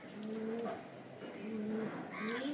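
Home-bred pigeons coo in repeated low, rolling calls close by, several phrases in a row, with faint background noise between them.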